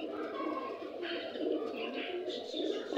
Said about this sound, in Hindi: वो रहा हमारा गुब्बारा कबूतर